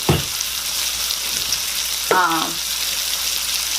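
Crab with seasonings fries in a hot pan, a steady sizzle with a brief louder burst of stirring or spattering partway through, and no talk.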